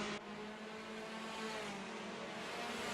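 Cupra Leon Competición TCR race car from 2020, modded into Assetto Corsa, drones with a steady engine note at speed, a continuous mid-loud roar with no talk.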